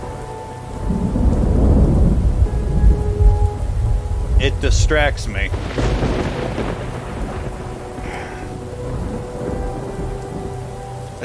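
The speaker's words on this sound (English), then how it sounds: "I like the rain." In the video game Fractured Minds, a thunderstorm rumbles low beneath steady rain, with a brief voice speaking over the storm midway through.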